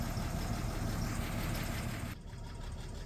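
A truck engine idles close by with a steady, dense rumble throughout, with no talk.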